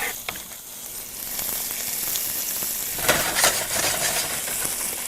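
An onion fries in a pan as part of a Greek island dish, a close, continuous crackling sizzle with scattered pops and a slightly busier patch midway, no talking.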